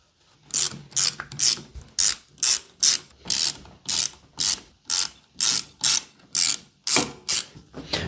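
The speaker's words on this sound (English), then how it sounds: "Next step is to remove these 5 bolts, and that way we can remove the throttle shaft." A ratchet backs out bolts on the throttle shaft of a 1978 Suzuki GS750 carburetor, producing a steady run of about fifteen crisp close clicking strokes in even rhythm, with no talking.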